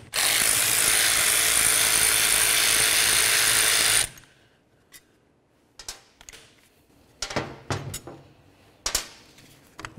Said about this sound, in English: Next thing we need to do is remove our three mounting bolts that hold the motor to the